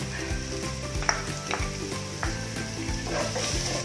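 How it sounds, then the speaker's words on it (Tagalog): Garlic frying in a pan for Bisaya-style dinuguan, a steady close sizzle with scattered stirring scrapes and light clicks throughout, no talking. "So ngayon lagyan na natin yung bawang."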